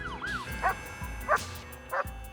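A German shepherd police dog gives three short, sharp barks with whiny edges, evenly spaced and fairly close, over a low background rumble.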